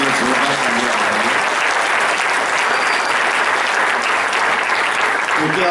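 Loud, sustained applause from a large crowd, dense clapping filling the whole stretch with no pauses.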